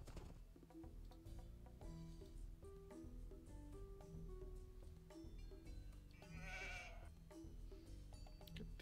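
Sheep bleating in the Age of Empires 2 strategy game, a few short bleats over steady looping game music.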